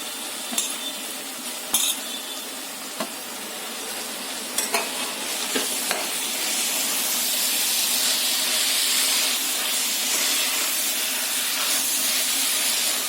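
Fenugreek leaves go into a hot pan of dry chicken bhaji with chopped spinach. A few clattering stirs come first, then a steady, steaming hiss swells and holds close and loud.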